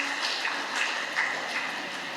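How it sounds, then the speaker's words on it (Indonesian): An audience claps together at the Jovisa 2020 event, a dense, steady patter of many hands that swells slightly a few times and carries on without a break. "tepuk tangan untuk kita semua."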